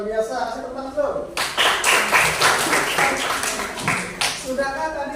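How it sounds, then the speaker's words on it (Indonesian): Classroom audience claps in a loud burst for several seconds after a teacher's prompt, the clapping tapering off toward the end with a voice speaking before and after. "Kasih tepuk tangan dulu."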